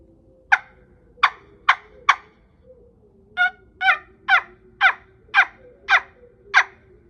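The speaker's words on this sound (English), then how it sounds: "Something new we're gonna be using this year is a wing bone call." A homemade turkey wing bone call, made from a wild turkey's bone, gives a close, loud series of about eleven sharp yelping clucks, four spaced notes and then a quicker, more even run.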